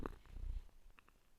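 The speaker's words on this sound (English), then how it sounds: "Can you guys hear the purr?" A pet cat named Izzy purrs softly and close by, a low rumbling flutter that swells briefly before fading to a faint hum.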